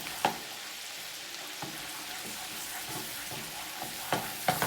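A scallop pan sauce fizzes gently as lemon zest is stirred in, with a soft continuous sizzle broken by a few sharp clicks of a utensil against the pan.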